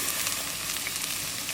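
Noodles with soy sauce sizzle steadily in a frying pan while being stirred, a short, fairly quiet burst of frying noise.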